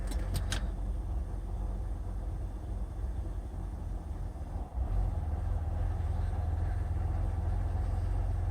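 A 2000 Lincoln LS engine idles with a low steady rumble, a brief dip and thump midway as the transmission drops into drive, then settles back to an even idle, close to the car with no voices.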